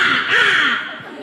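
A voice in a school mimicry performance imitates a crow cawing from a tree: one short, harsh, nasal caw that swells and fades, loud and close.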